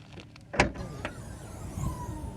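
The trunk of a Suzuki Fronx SUV opens with a sharp latch click, a second lighter clunk and a soft hum as the tailgate lifts, all close and without talk.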